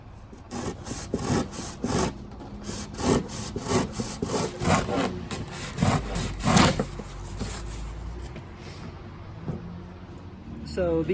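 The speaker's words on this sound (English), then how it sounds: "Some sanding screen, rasp, just sanding blocks." Steady scraping strokes of a rasp and sanding on a Divinycell foam board core for a foilboard, repeated back and forth, close up over a constant background hum.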